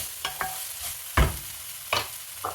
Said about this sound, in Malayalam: ഇനി ഇതിലേക്ക് നമുക്ക് സേമിയ ചേർത്തു കൊടുക്കാം